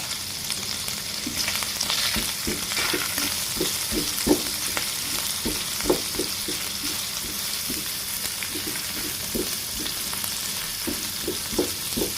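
Shrimp with chopped onion, garlic and green chili frying in a pan, giving a steady loud sizzle with a rhythmic series of scraping stirs throughout.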